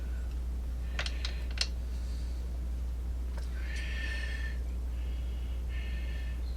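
A metal lathe takes a light thread-cutting pass with a tool insert, producing short squealing, whining bursts and scrapes over a steady low machine hum, with no speech.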